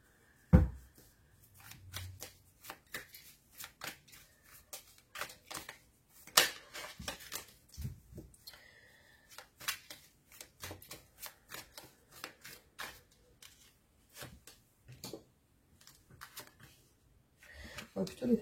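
Tarot cards shuffled and drawn by hand, a run of crisp riffling flicks and soft slaps at close range, with a voice speaking between bursts.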